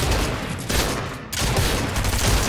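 Rapid gunfire in an online shooter-building video game, a sustained burst of loud automatic shots that drops briefly partway through before continuing dense and near.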